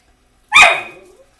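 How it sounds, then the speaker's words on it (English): One loud, sharp bark from a dog close by, alone against silence, trailing off quickly. "Hey Pepper, no need to bark."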